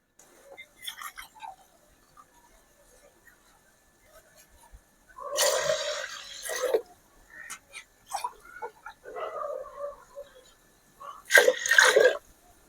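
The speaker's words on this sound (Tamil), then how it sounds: "மூணு டம்ளரு தண்ணி ஊற்றிட்டோம்" Water is poured onto rice in a pressure cooker for tomato pongal, with two separate splashing pours and quieter clinks and rustles between them in a quiet kitchen.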